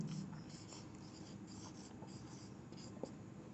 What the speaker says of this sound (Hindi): तो इसको हम नोट में लिख लेते हैं